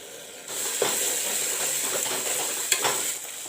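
Steady close sizzle of masala spices frying with chili powder and saffron in a hot pan, with a couple of brief stirring scrapes, starting abruptly and continuing evenly.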